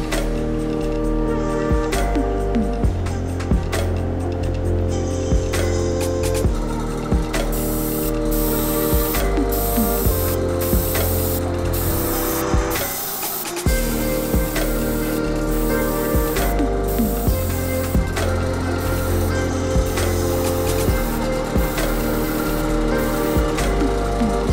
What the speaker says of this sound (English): I'm going to spray some light coats of that on